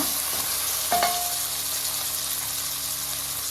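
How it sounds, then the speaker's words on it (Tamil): Carrots, beans and tomato sautéing in a pan for foxtail millet kichadi, a steady close sizzle with a short clatter of stirring near the one-second mark, no voices. "இப்போ வந்து தக்காளியை இது கூட நல்லா ஆட் பண்ணிக்கணும். நல்லா வதக்கிக்கோங்க."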